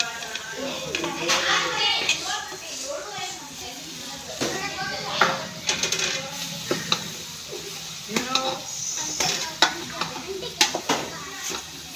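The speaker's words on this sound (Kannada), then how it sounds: "ನೋಡಿ ಫ್ರೆಂಡ್ಸ್, ಹೀರೆಕಾಯಿ ಹಾಕ್ತಾ ಇದ್ದೀನಿ" Ridge gourd fries in a pan as it is stirred, giving scraping clatter and a sizzling hiss, while someone talks and a voice comes in now and then.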